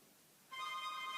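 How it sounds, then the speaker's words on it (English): A mobile phone starts ringing partway through, a faint electronic ringtone that comes in suddenly and carries on to the end. The room is quiet before it, and no one speaks. "I think that's my phone ringing,"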